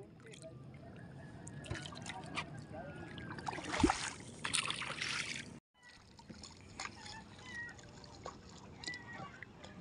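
Kids paddling a small canoe on open water, with soft paddle splashes, drips and trickling water close by, under faint voices, cutting out briefly midway.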